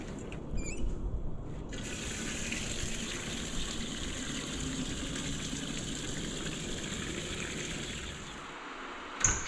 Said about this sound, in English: I'm gonna water all of these